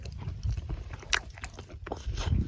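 Ramen being eaten beside a campfire at a camp on Jebel Shams, Oman, with close, steady chewing and slurping-like bites, soft crunches and a low crackling rumble underneath.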